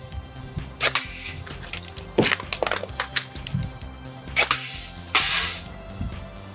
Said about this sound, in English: I'm gonna have 1 chance to shoot a can, do a quick reload, and then another shot to shoot the other can